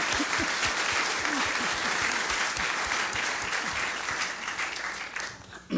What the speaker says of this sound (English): how about a round of applause for Andrew Blauvelt and the film?